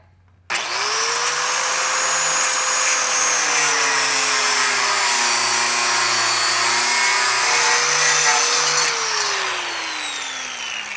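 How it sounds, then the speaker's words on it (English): A power tool cutting through a bolt on a truck steering system, a loud steady high-pitched whine starting abruptly and holding for several seconds before winding down as the tool spins to a stop. "we come in here, cut this bolt off, pound it out"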